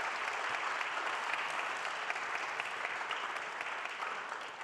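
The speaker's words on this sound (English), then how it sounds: "I think we can really applaud John and Joanna for their vision" Steady applause from an audience at a European cancer conference of the French National Cancer Institute, dense and continuous throughout with no voices over it.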